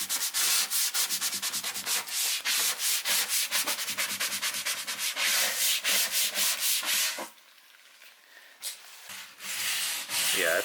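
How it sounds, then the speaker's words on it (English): Wooden furniture coated in chemical stripper is scrubbed in quick, rhythmic back-and-forth strokes, with a rasping rub that continues steadily, stops briefly, then resumes. "Yeah, I just need to scrub it off."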